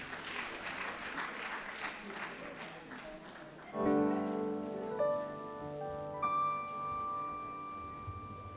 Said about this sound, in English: Let's give them a round of applause as they are.